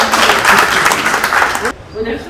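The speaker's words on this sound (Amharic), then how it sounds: "አጨብጭቡ ሁላችሁም።" Audience applause at a humanitarian organization's gathering, a dense wash of many hands clapping steadily for about two seconds, then cutting off abruptly to a quieter room with faint voices.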